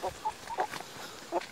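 A chicken on a rural farm where buffalo are also kept clucks several times in short, close bursts against a quiet outdoor background, with no talking.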